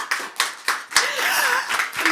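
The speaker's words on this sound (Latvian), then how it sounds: "Nebija domājusi, ka tā ir vieta aplausiem, bet varbūt" An audience at a Latvian talk on science and knowledge breaks into applause, a few separate claps first, then swelling into a fuller, continuous round of clapping.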